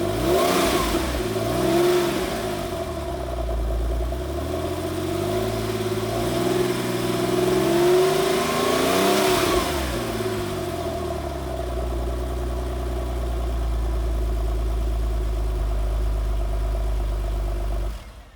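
A Porsche 911 (993) Turbo S engine revs hard and close, its pitch climbing and falling through several loud throttle blips before holding a steady, rumbling idle.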